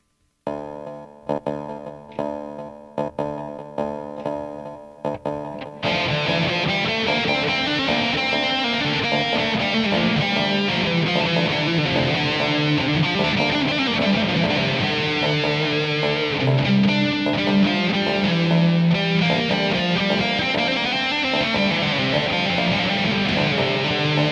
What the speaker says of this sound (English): Put on some distortion and rock this shape around real fast.